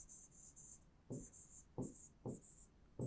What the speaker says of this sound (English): Let's write this